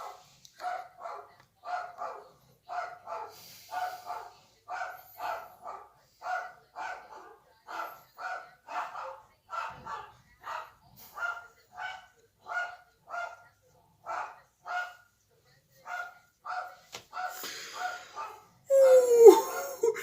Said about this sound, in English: That's my dog barking, folks.